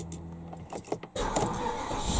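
A high-mileage Porsche Cayenne Turbo S cranks with a whirring starter that seems slow to disengage, then catches and settles into a loud, rough, unsteady idle close by.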